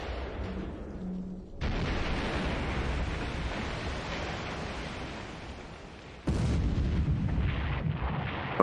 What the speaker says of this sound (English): Both Japanese battleships getting devastating broadsides on them.